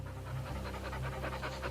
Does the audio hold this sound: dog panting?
yes